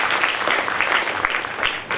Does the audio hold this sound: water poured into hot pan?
no